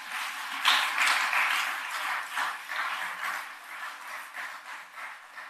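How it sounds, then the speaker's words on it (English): An audience at a county State of the County address in Guilford County gives a round of applause, a continuous clapping roar that swells early and then ebbs in gentle waves. "That deserves a round of applause."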